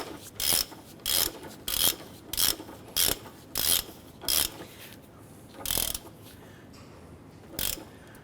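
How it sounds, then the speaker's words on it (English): A ratchet snugs down the nuts on the upper engine mount bracket of a 2008-2012 Honda Accord, giving about ten short, sharp clicking bursts in an uneven rhythm, close and clear without talk. "go ahead and snug down the nuts for the upper bracket."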